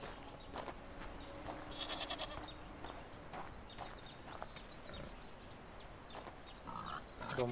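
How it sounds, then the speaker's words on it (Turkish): Video game goats bleat and pigs grunt in several short calls over a steady ambient outdoor background, moderately close and not especially loud. "Keçi ve domuz."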